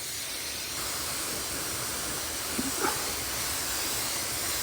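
A spray gun laying Oriental blue paint gives a steady, loud hiss that runs unbroken throughout, with a couple of faint knocks partway through.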